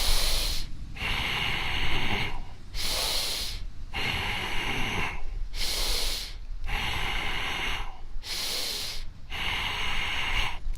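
Deep, forceful breathing during a seated dynamic tension bodybuilding exercise, long loud hissing breaths repeating in a steady rhythm of about six cycles, each separated by a short pause, close to the microphone.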